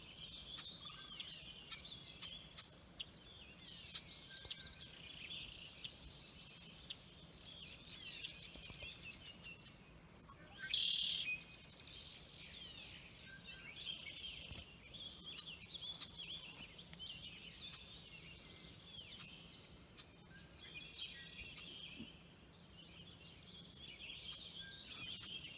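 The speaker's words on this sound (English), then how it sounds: "A lot of red-winged blackbirds around here." Red-winged blackbirds call repeatedly by a creek near a cabin, giving a busy, overlapping series of chirps and trills at moderate distance over quiet outdoor background, with no talking.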